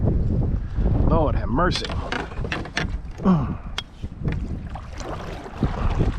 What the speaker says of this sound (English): This wind is borderline dangerous.